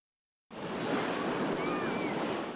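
Ocean surf at a packed Southern California beach on a hot day, a steady broadband wash of breaking waves and wind that starts abruptly and continues at an even, loud level.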